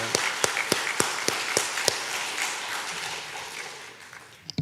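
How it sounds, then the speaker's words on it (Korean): Church congregation applause: a few distinct sharp claps at first, building quickly into steady, fairly loud clapping from many people in a reverberant worship hall, thinning out toward the end. "우리 하나님께 영광의 박수 한번 돌리겠습니다"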